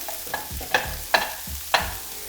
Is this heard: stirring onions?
yes